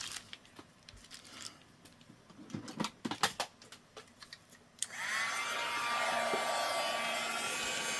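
A heat tool aimed at a paper-craft wallet card holder, starting up with a steady loud whooshing roar after a few seconds of light crinkling and handling noises, close by.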